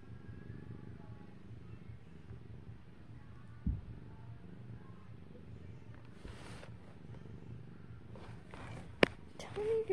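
A cat purrs softly and steadily up close in a quiet room, with a few faint clicks and brief rustles near the end.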